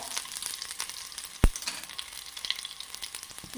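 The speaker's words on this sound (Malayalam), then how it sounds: "നമുക്ക് രണ്ട് കഷ്ണം ചെറിയ ഉള്ളി അരിഞ്ഞിട്ട് കൊടുക്കാം" Chopped small onions sizzle in a frying pan, a soft, steady crackling fry heard alone at close range, with one sharp clack partway through.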